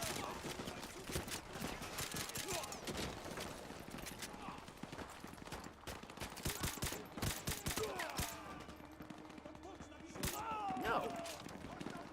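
Rapid bursts of gunfire crackle through a Call of Duty: Modern Warfare 2 campaign mission, sharp repeated shots in clusters over a dense game soundscape, with talk mixed in throughout.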